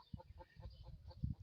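Backyard chickens clucking in a series of short, faint, rhythmic calls, several soft bursts close together with a louder one near the end.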